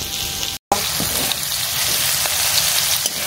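Food frying in a pan with salt, turmeric and sugar added, a steady close sizzle and crackle running through the whole stretch, broken by a brief dropout near the start.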